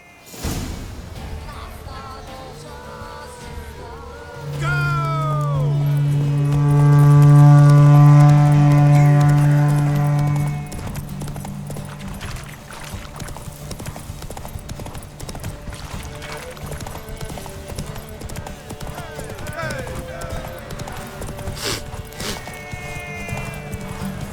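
Horse hooves clip-clop at a steady gallop through a race in Velen in a video game, and the rhythmic hoofbeats continue throughout beneath other game sounds.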